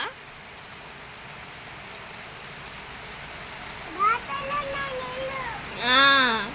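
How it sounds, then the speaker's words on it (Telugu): Steady rain patters throughout, with a voice speaking and calling out near the end over the downpour. "వాన పడుతుంది కదా భలేగా"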